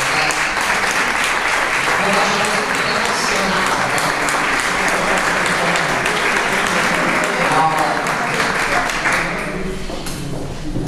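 Loud, sustained applause from a crowd at an art gallery's 50th anniversary event fills the whole clip, fading a little at the end.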